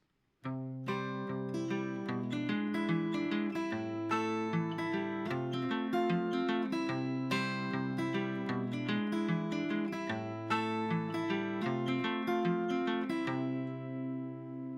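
Fingerstyle guitar picking a bouncy pattern with a long-short swing feel, bass and melody interwoven, steady and close, fading at the end.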